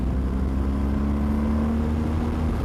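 Steady low engine drone of a 2020 BMW R1250GS motorcycle cruising in sixth gear around 3,000 RPM at about 50 mph, constant and even with wind rush, no talking.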